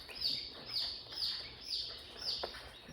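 Young chicks — sapphire gems, Rhode Island reds and buff Orpingtons — peep in a soft, repeated rhythm of high chirps, about five evenly spaced calls, faint and close.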